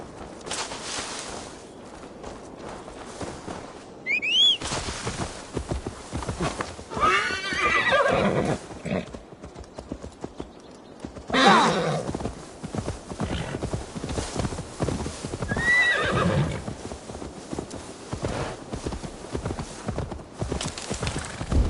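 Horse hooves clip-clopping and neighing in the Viking-era video game Assassin's Creed Valhalla, with steady walking hoofbeats throughout, two sharp whinnies, and bursts of rustling movement between them.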